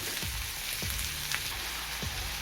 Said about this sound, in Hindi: क्योंकि तेल गर्म ही था मैं इसमें डाल रही हूँ प्याज